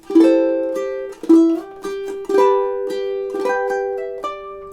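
A ukulele plays one measure from the chorus of a song at a slowed pace, with four or five distinct plucked chord strikes ringing out close and clear.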